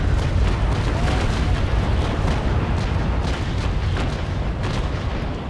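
Naval Action ship cannons fire in a sustained broadside during a stern rake, a dense continuous low rumble of overlapping booms that stays loud and steady throughout.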